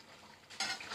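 Finely chopped green chillies stirred into frying liver in a pan, a soft scrape rising to a brief sizzling burst near the end, close and quiet, no talk.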